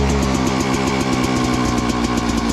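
A 2021 Rieju MR 300cc two-stroke enduro motorcycle engine running on its starter-fired power mode, a loud, close, steady buzzing putter with rapid even pulsing and no talk.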